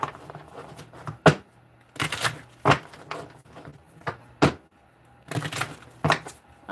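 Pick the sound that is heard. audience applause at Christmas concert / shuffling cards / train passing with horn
shuffling cards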